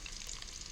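Eggs frying in a pan on a home stove, giving a close, steady sizzle and crackle of hot oil with no talking.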